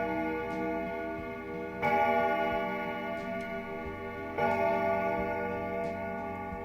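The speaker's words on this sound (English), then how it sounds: "The clock strikes 12." An old clock in the horror game Lost girl's diary ticks steadily and strikes twice with ringing, resonant chimes that hang in the air, with no voices present.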